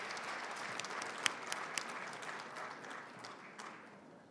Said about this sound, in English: Please give a round of applause to the cohort from February 2023 of